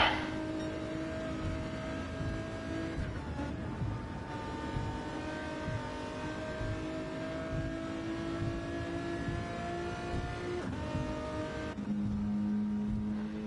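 A race car climbs a ramp in a street racing video game, its engine whining at a sustained pitch that slowly shifts, then drops briefly and settles into a lower steady tone near the end.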